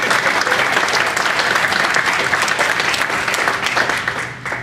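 Loud, dense audience applause from a Q&A panel session crowd, a steady wash of many hands clapping that holds evenly for several seconds with no talk over it.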